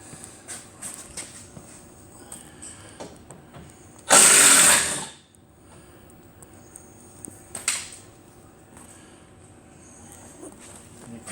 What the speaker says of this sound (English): I'm getting these two 8mm bolts at the bottom of the grill.